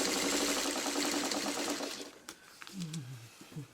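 Sewing machine stitching, a fast rhythmic whir running steadily for about two seconds before stopping, followed by a voice speaking briefly.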